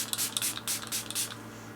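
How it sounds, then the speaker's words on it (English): Makeup setting spray misted from a pump bottle, several quick hissing bursts in an uneven rhythm, close and clear with no voices. "I always drown myself in setting spray"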